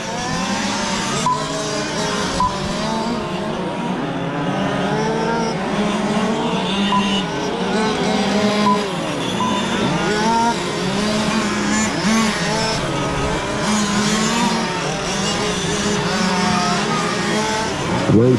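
Two-wheel drive RC cars racing in an A-main final at an outdoor track, a continuous high buzzing whine of small electric motors rising and falling as cars pass, under an announcer's steady commentary.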